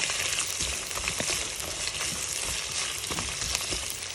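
Onions sautéing in hot oil for pork lauya, giving a loud, dense, steady sizzle that fills the whole moment, with faint scattered pops and stirring scrapes underneath and no voices.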